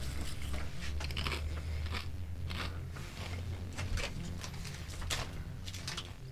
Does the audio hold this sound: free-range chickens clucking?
no